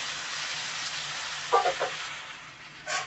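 Mutton fries in a pan, and mashed gongura leaves are tipped in partway through. A soft, steady sizzle is broken by a few brief louder bursts as the greens land and are stirred, with no speech.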